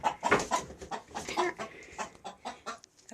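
A hen clucks repeatedly in a chicken coop with roosting bars, a close run of short, uneven clucks and squawks with no talking.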